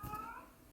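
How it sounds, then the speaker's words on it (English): A house cat meows in one drawn-out, wavering cry close by, starting loud and trailing off before a sudden cutoff. "now that the cat is making noise"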